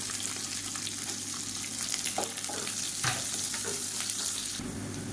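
Onions sizzle steadily in hot oil, a constant crackling hiss with occasional stirring scrapes and clinks nearby.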